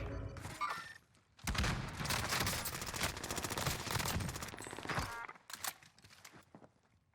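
Warzone Pacific gunfire with explosive rounds: a rapid, rattling burst of automatic shots after a brief lull, loud and continuous for a few seconds before breaking off into scattered pops.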